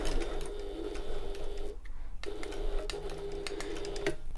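A sewing machine runs a longer top stitch along a shoulder bag, giving a steady, fast mechanical whirr with rapid ticking. It stops briefly near the middle and then resumes, close up, with no speech.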